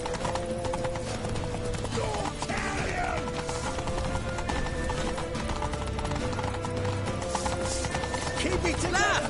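Horse galloping in The Witcher 3 video game, rapid clip-clop hoofbeats running continuously under game music and effects, with a whinny partway through.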